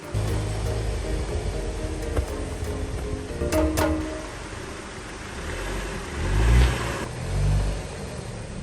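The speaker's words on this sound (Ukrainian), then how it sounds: "Зараз підкладаю каміння та заїжджаємо на них." A Land Rover engine rumbles steadily at low revs, then swells briefly as the vehicle creeps onto stones placed under its wheels at a mountain campsite in the Carpathians. A few light clinks sound partway through.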